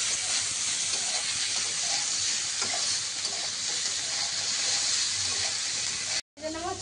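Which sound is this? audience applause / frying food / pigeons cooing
frying food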